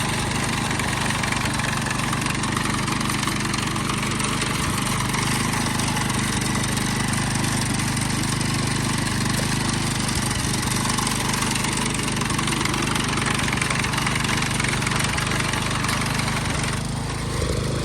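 A Kubota RE60 rice combine harvester's engine runs continuously at close range during harvesting, a loud, steady mechanical drone with no letup.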